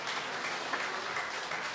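Applause from the audience at a CD launch concert in Budiná, a steady, even wash of clapping that stays at one level throughout the short stretch, with no voices breaking through.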